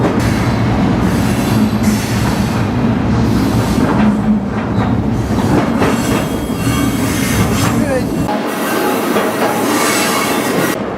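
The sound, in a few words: freight train passing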